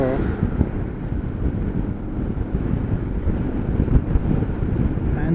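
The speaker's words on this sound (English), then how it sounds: "it became windy" Wind buffets the microphone while riding in the rain, a loud, rough low rumble that gusts unevenly from start to finish.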